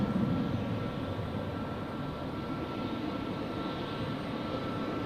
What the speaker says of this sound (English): Here we have Condor with an A321neo